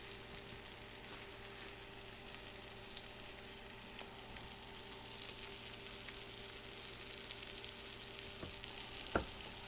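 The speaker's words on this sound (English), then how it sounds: "it won't take very long to cook the fish through at all" Tilapia fish fries in a pan with jalapeno, giving a steady, close sizzle that holds evenly throughout with a few small pops and clicks, and no talking.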